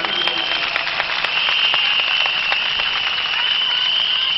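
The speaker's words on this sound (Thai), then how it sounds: "ปรบมือดังๆให้ตัวเองหน่อยครับ" Steady audience applause at a talk or lecture gathering, a thick continuous wash of many hands clapping at a moderate distance.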